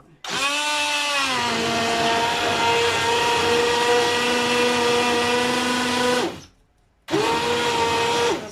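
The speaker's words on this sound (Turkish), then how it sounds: "Eşim mikserden geçirdi çorbayı." An electric mixer blends soup in a home kitchen with a loud, steady motor whine that holds for about six seconds, cuts out briefly, then starts up again.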